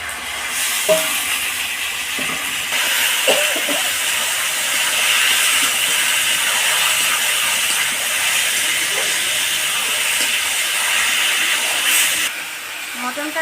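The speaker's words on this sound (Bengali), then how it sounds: "আদা রসুন বাটাটাকে হালকা করে ভেজে নেবো তারপরে আমি মটনটা দিয়ে আবার আমি কষে নেব" Mutton sizzling and being stir-fried in a pan with fried ginger-garlic paste, a steady broadband frying hiss running throughout with occasional clinks of a utensil against the pan.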